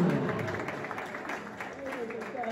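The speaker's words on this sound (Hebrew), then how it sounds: "חבר'ה, תעשו כפיים לאח הקטן של ציון ברוך" A small group of soldiers celebrating together breaks into scattered applause and clapping. It is moderately loud and mixed with crowd noise and talking voices.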